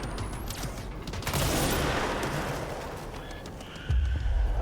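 Gunfire in the video game Control: a dense, loud burst of rapid shots and booming impacts filling the clip, ending in a heavier low thud.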